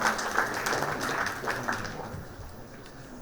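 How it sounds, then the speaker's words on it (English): Audience at a committee launch event applauds a former ICAR official, fairly soft crowd clapping that gradually fades toward the end. "Everyone, please, a huge round of applause for Dr."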